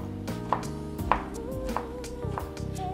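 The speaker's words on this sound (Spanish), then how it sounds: "lo que vamos a hacer es voltear 90 grados y cortar los cuadritos" A knife chops zucchini into small cubes on a cutting board, several crisp knocks at an uneven pace with quicker taps near the end, close up, with a faint background hum and no talking.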